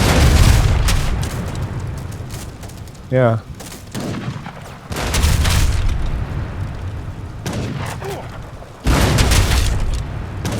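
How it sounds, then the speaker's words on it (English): Cannon fire during an Age of Empires III real-time strategy battle: several heavy, booming volleys with crackling gunfire between them, loud and close. Someone briefly speaks over the battle. "Yeah, those cannons."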